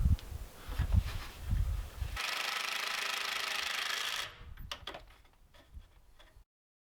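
Power drill boring pocket holes into wood to mount shelf supports inside a travel trailer cabinet, a loud steady whine for about two seconds amid shorter bursts of handling and clatter, then quieter knocks.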